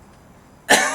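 A single sharp, loud cough bursts out close by after a brief quiet moment, then trails off.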